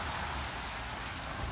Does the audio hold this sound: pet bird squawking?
no